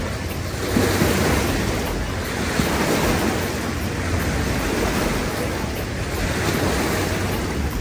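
Steady roar of surf with waves washing in continuously, close and loud, with wind buffeting the microphone throughout.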